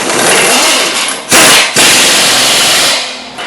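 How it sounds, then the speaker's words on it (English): An air impact wrench drives home the nut on a shock absorber of a 1992–1999 Chevy Tahoe. It is a loud, close, sustained rattling burst with a short pause partway through, then a second long burst. "We're going to put it on the nut, then we're going to hold the wrench on the other side, and then we'll shoot it in"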